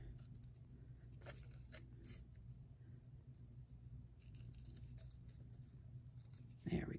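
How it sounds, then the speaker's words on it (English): Scissors snip paper right along the edge of a stamp for a journal card, a few crisp cuts over a steady low background hum, close to the mic. "you can cut it right on the"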